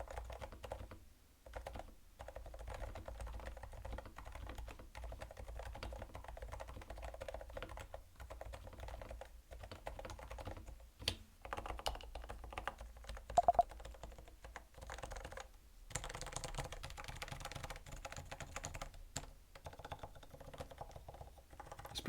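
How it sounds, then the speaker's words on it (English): Someone types steadily on a computer keyboard, close by, with rapid irregular clacks and brief pauses between bursts, and a few louder key strikes; no talk. "typing noises"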